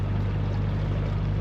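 A sailboat's motor running under way, a steady, close low drone with a constant hum throughout and no talking.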